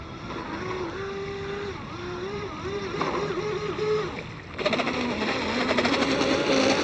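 Seaducer SD3 mono hull RC boat running on water with its propeller ventilating, a high electric motor whine rising and falling in pitch over churning, surging water.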